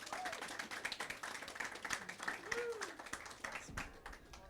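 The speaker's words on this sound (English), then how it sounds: "With a round of applause, of course." A showcase audience clapping to welcome a presenter to the stage, steady applause from a modest crowd, with a few voices and whoops mixed in.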